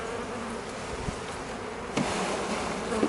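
Honey bees from a weak colony buzzing in and around an open hive with a protein patty, a dense steady drone up close with a few brief louder passes, no voices.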